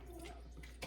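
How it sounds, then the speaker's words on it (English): Water running from a touch-activated pull-down kitchen faucet in a remodeled kitchen, a soft steady broadband rush lasting under a second with a brief louder splash near the end. "This is a touch faucet, so it turns on with a touch."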